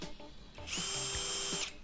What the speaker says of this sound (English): And then I would pre-drill the first hole.